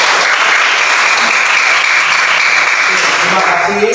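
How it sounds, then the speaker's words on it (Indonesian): Schoolchildren in a classroom clap together, a loud, dense and continuous burst of applause that holds steady for the whole stretch. "Oke, tepuk tangan untuk kalian semua."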